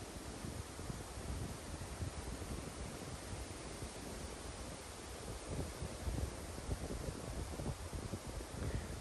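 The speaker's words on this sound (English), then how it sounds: "We're getting some wind gust" Wind gusts buffeting a Rode VideoMic Pro Plus mounted on a GoPro 10 outdoors while walking, a continuous low rumbling buffet that swells and surges, growing stronger toward the end.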